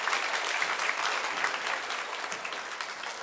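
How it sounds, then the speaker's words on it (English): At a high school awards ceremony, a crowd gives the academic teams a steady round of applause, a thick, even patter of many hands clapping that tapers only slightly over a few seconds. "just a round of applause for my academic teams"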